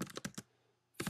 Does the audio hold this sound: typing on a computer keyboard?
yes